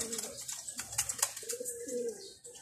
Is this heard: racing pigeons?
yes